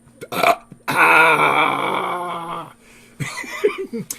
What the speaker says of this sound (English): they all take turns burping